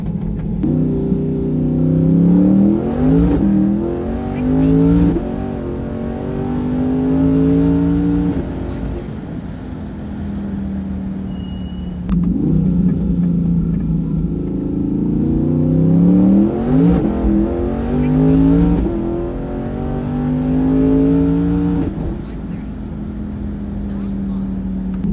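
A twin-turbo 2022 Chevrolet Corvette C8 Stingray makes two hard acceleration pulls on a test run, its engine note climbing steadily in pitch each time, loud and close, with a brief lull between the runs.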